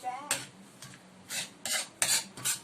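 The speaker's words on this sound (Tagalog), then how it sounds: "Konting halo-halo pa po mga Pops and Moms bago natin siya hanguin." A spoon stirs homemade chocolate sauce made from Choc Nut candy in a pan, giving several scraping, clinking strokes in an irregular rhythm, close and fairly quiet.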